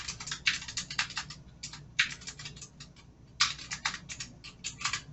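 Computer keyboard typing in quick bursts of clicking keystrokes with short pauses between, close and moderately quiet, no voices.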